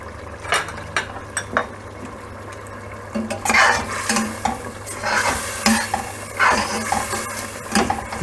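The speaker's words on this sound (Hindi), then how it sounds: "इसको अच्छे तरीके से हिला लेंगे।" Whole spices, cumin and cinnamon among them, are stirred in a pot for Karachi chicken biryani, with loud scraping strokes and clinks over a steady low sizzle.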